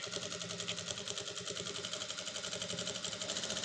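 Sewing machine stitching a blouse lining, a continuous rapid mechanical whirring and ticking at steady speed, close but fairly quiet, with no talk.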